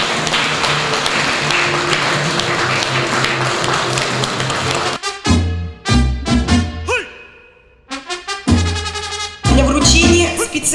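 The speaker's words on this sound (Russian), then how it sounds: "Аплодисменты! Аплодируем нашим победителям!" Audience applause at a journalism awards ceremony in the Vologda region: about five seconds of dense, steady clapping from a large crowd, then it gives way to loud, punchy stage music with sharp beats and pauses.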